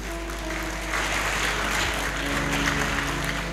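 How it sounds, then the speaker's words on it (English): A church congregation clapping together at a thanksgiving service, dense sustained applause over a low constant hum, rising a little partway through. "You are clapping, you don't know why you are clapping."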